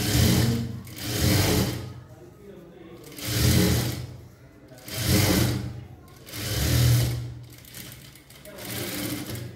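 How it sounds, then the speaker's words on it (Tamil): A sewing machine stitching fabric in a tailoring lesson, running in five or six evenly spaced bursts of rapid whirring, close and loud, with pauses between runs. "மேல ஒரு பதிவு தையல் போட்டுக்கலாம்."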